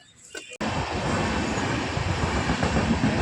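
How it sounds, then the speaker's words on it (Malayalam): A train rolls past a railway crossing in a Kerala village, a loud, steady roar of wheels and wagons that kicks in abruptly after a brief quiet moment and holds close for the rest of the stretch. "ട്രെയിൻ പോണത് കാണിച്ചു തരാം കേട്ടോ"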